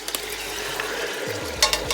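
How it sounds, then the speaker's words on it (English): Soft, steady sizzling of chicken frying in a big pot, with occasional scraping and clinks of a utensil stirring, close by and without talk. "we're gonna go ahead and start frying our chicken up first of all"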